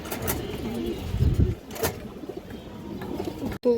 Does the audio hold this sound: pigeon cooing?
yes